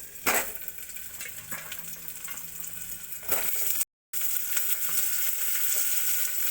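Chopped ginger and garlic sizzle steadily in hot oil in a pan, a continuous bright frying hiss with a few stirring scrapes and a brief cut in the middle, no talking.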